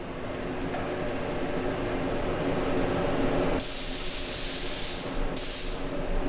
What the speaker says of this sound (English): I really try and dust the flare range on.